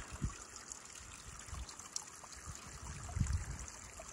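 A small mountain stream trickles and bubbles in the open during an elk hunt in Colorado, a faint, steady wash of water broken by a few soft low splashes and gurgles.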